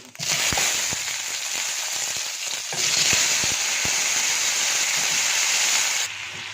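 Cumin seeds frying in hot oil in a pan, a bright steady sizzle with scattered crackles and pops close by, briefly dipping near the middle before swelling again.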